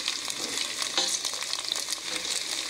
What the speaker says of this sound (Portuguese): Fritando as tiras de frango.